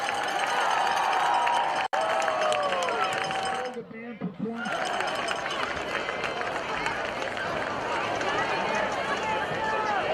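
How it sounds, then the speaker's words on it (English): A senior night crowd at a high school varsity football game, Taylorville at Mahomet-Seymour, applauds and cheers the marching band and seniors, a dense sustained roar of clapping and voices, briefly dipping before swelling again. "Let's have a great round of applause for your marching band and the seniors."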